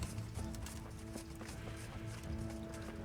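Horse hooves clip-clop at a steady trotting rhythm in the video game Kingdom Come: Deliverance, faint and mixed with game ambience.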